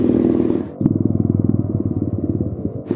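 A motorcycle on a race track idling with a steady pulsing engine throb, the rumble close and fairly loud after a brief burst of noise at the start.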